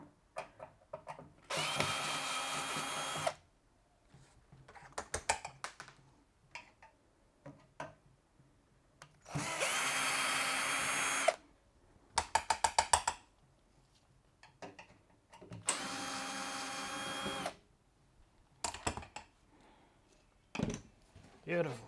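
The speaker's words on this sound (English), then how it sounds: "So remove those screws" A power drill unscrews fasteners from a Samsung appliance in three long whirring bursts, close and loud, separated by clusters of ticking clicks and handling noises; a voice speaks between the runs.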